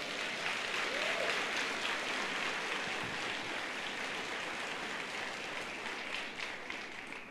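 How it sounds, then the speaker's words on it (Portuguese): Applause from a church congregation fills the room as a steady, moderately distant patter of many hands clapping, sustained throughout and fading slightly at the end. "Se você crê nisso, aplauda o Senhor Jesus"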